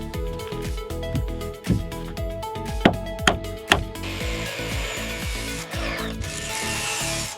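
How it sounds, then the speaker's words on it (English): Power tool work on a wooden house base frame being fixed with large screws: a whirring driver runs under several sharp knocks and clacks of wood, then a harsher grinding stretch, close and steady throughout. "The first step is to fix the base frame with large screws."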